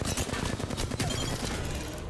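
Loud, rapid automatic gunfire in the battle-royale game Apex Legends, with a tight burst of overlapping shots rattling nonstop for a couple of seconds.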